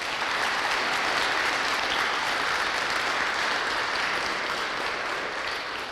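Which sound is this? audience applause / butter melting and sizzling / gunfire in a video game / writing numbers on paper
audience applause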